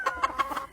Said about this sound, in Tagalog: So this is a very thin-legged chicken.